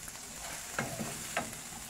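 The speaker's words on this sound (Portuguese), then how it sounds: "Então, deixa ele fritar aqui." Corn frying in a pan while a cream is being prepared, a faint soft sizzle with a couple of light utensil taps, quiet and close.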